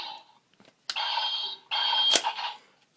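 Electronic sound effects from a DX Kunai Gun toy from the Kamen Rider Kabuto line: two bursts of bright synthesized beeping and chiming tones, close and loud, separated by short gaps, with no talking.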